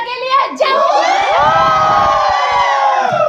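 A crowd at a press event for a Bhojpuri singer hooting and cheering loudly, with sustained close whoops and shouts that swell after a brief opening cry.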